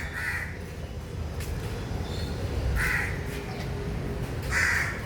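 A crow caws three times in short, raspy calls spaced a couple of seconds apart, moderately close, over a steady low background rumble with no talk.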